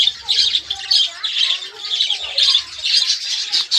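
Pet birds kept indoors squawk and chirp in repeated loud bursts, close by and almost continuous, with a faint low hum underneath.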